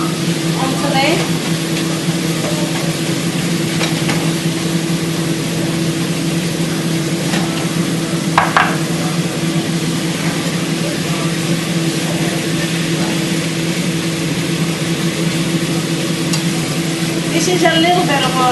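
An onion and minced meat stuffing for kibbee cooks in a pan with a steady low sizzle and occasional scrapes of stirring. A constant hum runs underneath.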